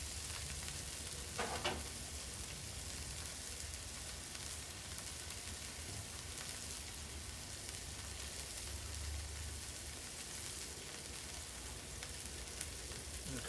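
Spam sizzling on a Blackstone flat top griddle, a steady dense crackle of frying fat held at an even level throughout, with a faint scrape or tap now and then and no speech.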